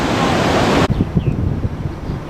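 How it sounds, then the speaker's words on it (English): Roar of ocean surf on a misty northeastern coast near Chincoteague, a loud steady rushing wash that drops abruptly into a rougher, uneven rumble partway through. "You can actually hear the sound and the roar of these waves"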